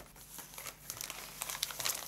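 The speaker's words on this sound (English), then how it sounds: "These little acetate boxes. They are really thick and sturdy. They fold together like that" A thick, sturdy acetate box being folded together, a brief run of close crinkling and crackling plastic creases, quiet and alone.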